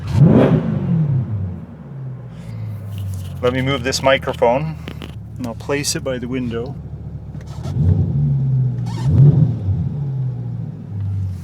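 A Corvette C8's exhaust rumbles and drones steadily, rising in a couple of revs, while someone talks close by over the engine.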